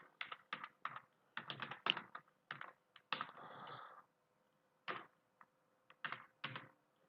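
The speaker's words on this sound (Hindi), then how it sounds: "और 2-3 बार टाइप कर लेते हैं" Keystrokes on a computer keyboard while entering text in MS Word 365, quick clustered taps in short bursts with brief pauses, close and fairly quiet, no voices.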